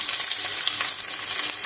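Ginger and red chillies fry in hot oil for a tadka, giving a continuous bright sizzle with small crackles and pops, close and steady throughout.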